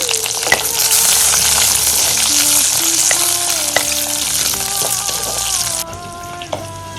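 Garlic and curry leaves fry steadily in a pan with a bright, continuous sizzle and occasional scraping stirs, loud and close; the hiss softens slightly toward the end.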